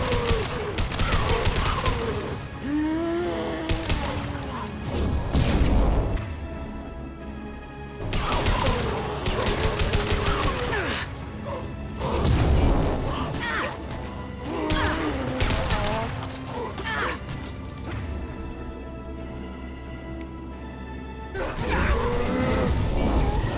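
Gunfire crackles through a Mass Effect 2 firefight, bursts of shots and heavy impacts recurring across the clip amid mechanical clatter and game effects, with voices mixed in.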